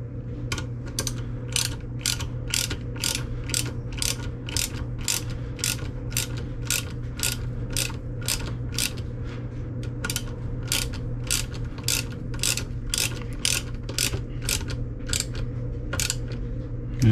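A hand ratchet tightens a bolt on the slider of a third-generation Chevy van, giving a long run of evenly spaced, crisp clicks close by with no talking.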